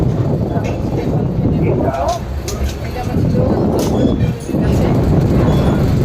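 A crowded passenger train at a railway station rumbles steadily up close with rattling carriages and clatter while people talk nearby.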